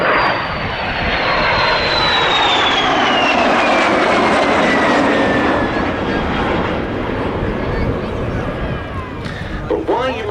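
A captured MiG-15 jet flies past at the Duxford air show, its loud roaring engine drone sweeping with a falling whine as it passes, then easing slightly toward the end.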